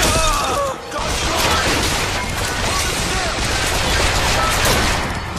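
Gunfire in the video game Bioshock Infinite, a dense, loud barrage of rapid shots and crashing impacts that runs almost without a break, with game voices mixed in.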